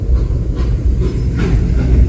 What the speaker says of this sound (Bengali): এই হচ্ছে ঘুম স্টেশন একদম সামনে রয়েছে দেখো টয় ট্রেন